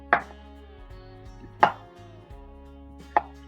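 A knife chops cabbage into thin strips on a board: three crisp, evenly spaced strikes about one and a half seconds apart, each loud and close, over a faint steady hum.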